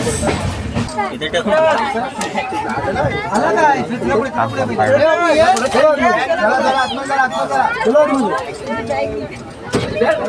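Crowd chatter at a busy tourist spot in Ratnagiri, with many overlapping voices and close conversational babble continuing throughout.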